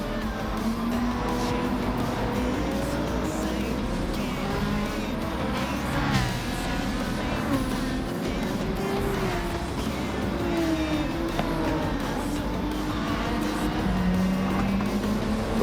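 Video game race cars, a Supra and a 2013 GTR, rev and race with steady engine roar, shifting pitch and tire noise throughout, mid-distance and continuous.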